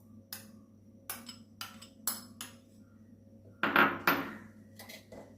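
Cooled, sautéed onions are spooned into a mixer grinder jar, making a series of light, close clinks and taps of spoon against jar, with a louder clatter near the end.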